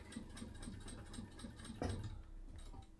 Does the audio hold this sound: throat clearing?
no